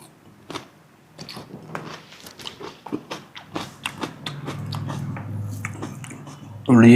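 Raw onion chewed close up, a series of crisp, wet crunching bites and mashing in an irregular rhythm, with a voice murmuring faintly at times and a sudden loud burst at the very end.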